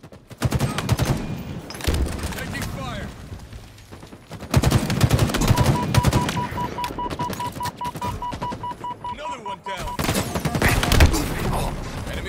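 Rapid bursts of gunfire in Halo Infinite multiplayer, several loud automatic volleys separated by short gaps, mixed with game announcer voice and other battle effects.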